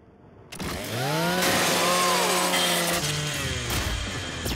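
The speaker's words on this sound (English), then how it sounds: "Just use your Lancer's chainsaw." Lancer rifle chainsaw from Gears 5 roaring to life after a brief quiet start, a loud sustained buzzing rev that dips slightly partway through, alone without talk.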